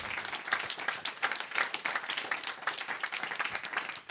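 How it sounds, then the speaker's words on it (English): Audience applause at a Startup Grind Vienna talk, a dense patter of many hands clapping steadily and fairly close, sustained without a break for about four seconds. "Give him a warm round of applause."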